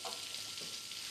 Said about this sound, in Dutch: De champignons bakken.